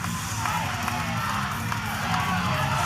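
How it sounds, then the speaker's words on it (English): A wrestling crowd at a live show chants together in a dense, steady roar of voices, loud and continuous throughout. "And now the crowd telling him to take it off."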